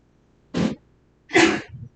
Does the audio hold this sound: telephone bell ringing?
no